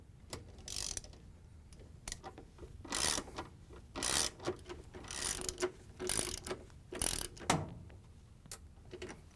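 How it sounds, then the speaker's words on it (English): A ratchet on a 5/16 socket with a long extension drives the motor mounting screws on a Frigidaire/Electrolux appliance, giving repeated short bursts of clicking that come in rhythmic groups, close up and with no talk. "We're going to use our 5/16 socket with the long extension and the ratchet."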